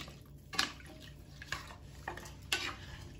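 A spoon stirs lamb and vegetables in a pot, with a few sharp clinks against the sides at irregular intervals and soft wet scraping between them, close and fairly quiet.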